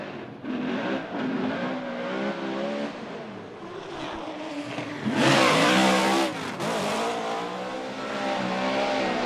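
A Formula Drift car on a sighting lap at the Long Beach pro round revs hard, its engine pitch sweeping up and down. It grows louder and closer midway, with a brief sharp tire squeal as it passes.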